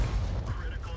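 An FV3805 self-propelled artillery gun, built on the Centurion, fires a shell in a tank video game, a deep, muffled boom with a rumbling low-end tail under a speaking voice.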